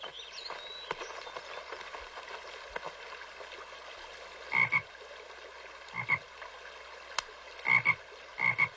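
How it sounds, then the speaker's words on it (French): Frogs croak in a stream in short, loud bursts, single and paired, spaced irregularly over a faint background of trickling water. "j'ai vu des grenouilles dans le ruisseau"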